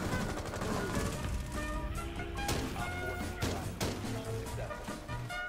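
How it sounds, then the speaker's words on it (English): Gunfire in the video game Rainbow Six comes as irregular bursts of rapid shots and sharp impacts as rounds hit walls, heard at moderate loudness over a busy game soundscape. "I'm just shooting the walls."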